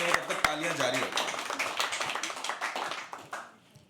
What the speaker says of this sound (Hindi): Come on guys, keep the applause coming.